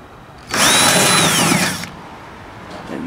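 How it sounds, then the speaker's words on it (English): A power drill bores through a microwave in one loud, sustained burst of about a second and a half, its whine gliding downward as the bit works through the metal, followed by quieter mechanical clatter. "And that, my friends, is how you drill through a microwave."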